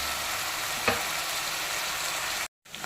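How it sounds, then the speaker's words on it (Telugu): Mutton pieces fry steadily in a hot pan, a dense continuous sizzle at close range with one brief scrape partway through, then the sound cuts out abruptly for a moment before resuming. "కలర్ చేంజ్ అయ్యేదాకా కూడా వేగనిచ్చుకోవాలి."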